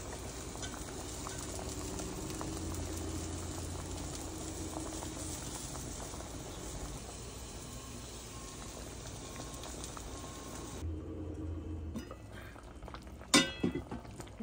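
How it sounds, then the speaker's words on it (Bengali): Lentil dal simmering in a cooking pot, a soft continuous bubbling and burbling close by that fades toward the end, followed by a sharp clink. "ডালটা সিদ্ধ হতে থাক"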